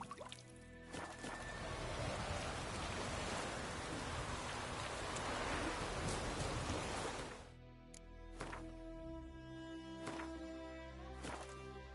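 Steady rain pours in The Witcher video game, a dense hiss of falling drops for several seconds before easing to scattered drips and patter, with no talking.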